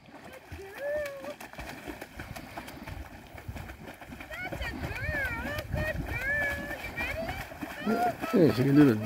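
A young dog paddling and splashing in water on its first swim, with irregular close splashes that build to heavier splashing at the end, while people talk and call out excitedly over it.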